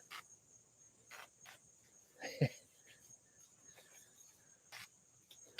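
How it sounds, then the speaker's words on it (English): Insects chirp faintly outdoors on a porch in a sparse, steady high trill, with occasional soft handling noises while a Schwinn Super Sport bicycle has shifter cables installed. "The bugs are definitely out today."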